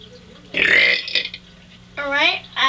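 A child lets out a loud, long burp in a burping contest, then a second drawn-out burp and the start of a third, each close and forceful with quiet gaps between.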